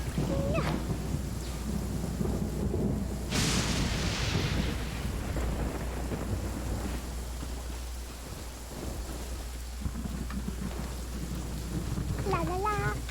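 In Genshin Impact, rain pours steadily as a heavy thunderclap crashes early and rumbles off, leaving a dense, loud wash of storm noise throughout.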